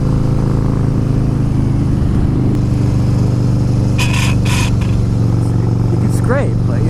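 Harley-Davidson Fat Boy S motorcycle riding on a winding California road, its engine a loud steady drone throughout with wind rush, while a rider talks over it.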